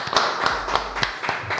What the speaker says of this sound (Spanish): Edu Tonioli, este aplauso es para vos.